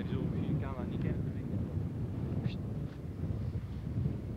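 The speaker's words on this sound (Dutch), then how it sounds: "want waait nou wel hard" Strong wind buffets the microphone outdoors on a Dutch dairy farm in summer, a low rumbling roar that gusts unevenly throughout while someone talks in the foreground.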